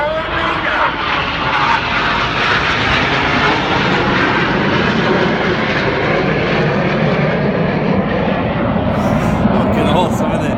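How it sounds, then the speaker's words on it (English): A Panavia Tornado GR4 jet on a flypast at a Red Arrows air show at Sunderland, its loud, continuous engine roar filling the whole stretch while a commentator talks over it. "So now celebrating the Tornado Bomber Force, in from the right, this is Tornado!"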